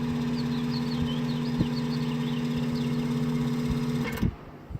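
An antique Emerson table fan runs with a steady motor hum and a faint buzzing rattle that continues until the motor cuts off near the end.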